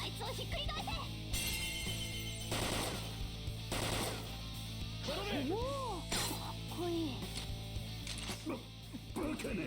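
Rapid bursts of gunfire from the video game Persona 5 crack sharply and densely amid a busy game soundtrack, with voices speaking over the shots throughout.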